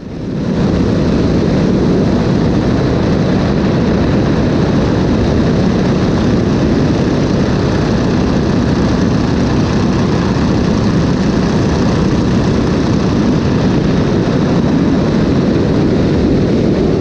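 Stearman open-cockpit biplane with its radial propeller engine during an aerobatic loop, a loud, steady, full-throated engine drone with rushing wind that holds for the whole stretch, no voices.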